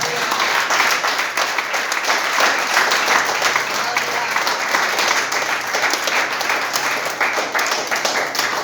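A church congregation claps steadily and loudly for the full stretch, a thick continuous wash of many hands with voices mixed faintly underneath.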